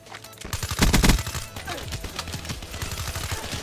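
Rapid bursts of gunfire from Call of Duty: Black Ops 3 multiplayer, a loud cluster of close shots followed by steadier repeated firing that continues throughout.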